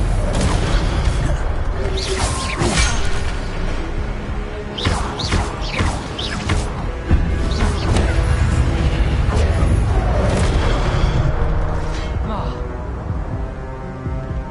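An Incendio fire spell from Hogwarts Legacy flares with whooshes, booming impacts and crackling bursts that recur over a constant rumble of game sound, loud and busy throughout.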